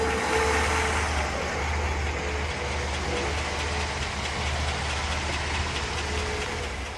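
A 1955 Ford Thunderbird Roadster engine runs with its exhaust giving a steady, loud low rumble that holds evenly throughout with no talk.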